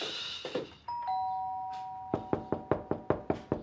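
A doorbell chimes once, then a series of sharp, evenly spaced knocks on a home's front door follows close by, loud and clear with no talking.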